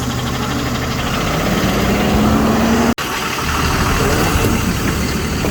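A diesel truck engine with its water-in-fuel light on runs loud and close, rumbling steadily while the pitch climbs as it revs, then cuts out for an instant before carrying on.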